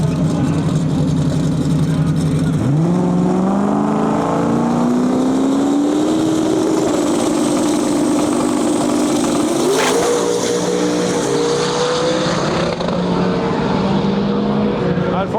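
A drag racing car makes a qualifying run down the left lane at about 190 mph during World Cup Finals, its engine a loud, sustained roar that climbs sharply in pitch early and keeps rising for the whole run.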